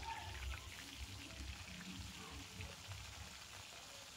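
Bata fish fry in a pan with a soft, continuous sizzle and crackle, faint and steady throughout with no talking.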